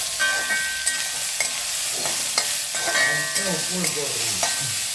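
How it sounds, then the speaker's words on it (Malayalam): Sliced onions fry in hot oil with a steady close sizzle while a spoon stirs them, giving light scraping clicks at irregular intervals, with no voices. "മൂത്ത് ഇട്ട് നമ്മൾ സവാള ഇടുകയാണ്. പിന്നെ ഇളക്കുക."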